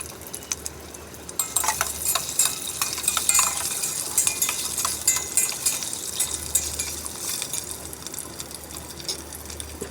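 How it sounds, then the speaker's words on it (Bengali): Potatoes and eggs fry in hot oil in a pan for a hotel-style chicken dum biryani, a steady close sizzle with occasional clinks of a utensil against the pan. "আমি এখন আলু আর ডিমটাকে সুন্দরভাবে ভেজে নিব।"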